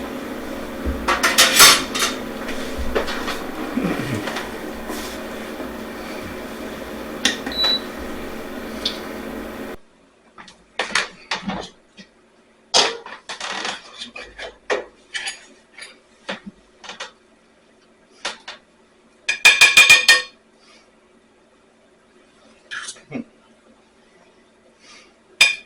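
Plates, pots and cutlery clink and scrape while butter chicken is plated with rice, first under a busy kitchen background, then as sparse, close, sharp knocks and clinks with quiet gaps between.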